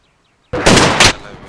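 Video game gunfire in a military shooter with a BMP vehicle nearby: after a quiet lead-in, a loud sudden burst of shots erupts, with two sharp peaks, then rings out and fades.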